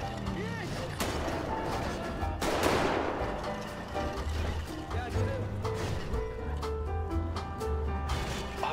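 SMG gunfire in GTA 5: sharp bursts of shots crack out among general game noise, with one louder blast early on and a steady background rumble throughout.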